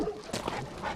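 Small puppy whimpers and soft yips, close by, brief and high-pitched, over a faint background.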